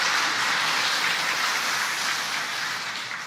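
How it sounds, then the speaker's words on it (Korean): A church congregation applauds in welcome, a broad sustained clapping that fills the hall and slowly fades toward the end. "잠깐 일어나시면 좀 박수로 다시 환영하겠습니다"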